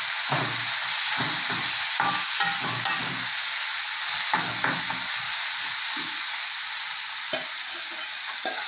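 Mung dal with sliced red chillies is stirred in a hot pan, giving a steady loud sizzle and frying hiss with scraping stirring strokes throughout.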